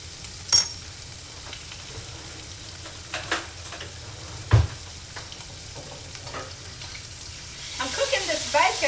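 Bacon fries in a pan, a steady close sizzle and crackle. It is joined by a few sharp utensil knocks and a rising hiss near the end, with a voice talking now and then.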